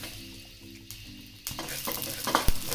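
Mustard seeds with black pepper and chillies fry in a pan, starting as a quiet faint crackle and then breaking into louder popping and sizzling, with a few sharp pops near the end.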